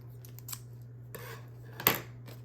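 Scissors snipping out a paper mushroom shape, a few short crisp cuts with one louder snap near the end, close and quiet over a low steady hum.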